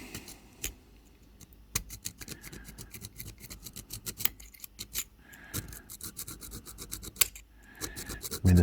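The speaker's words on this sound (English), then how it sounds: "So I will continue to try and clean the sides and get rid of any kind of rust deposits" Rust deposits are scrubbed off the sides of a metal winch holder, a close, irregular run of sharp scratching and rasping strokes with metallic clicks, with no talk.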